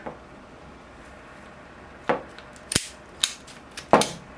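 Ratcheting pruners from Ironwood Tools shear through a big orchard tree root during bonsai work, a series of four or five sharp, close snapping clicks that grow louder toward the end.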